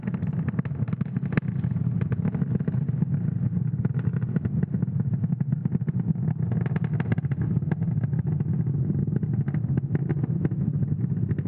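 A SpaceX Falcon 9 rocket climbing supersonic on a Starlink launch, a steady loud crackling roar with dense rumbling low end and constant rough texture throughout, no voices.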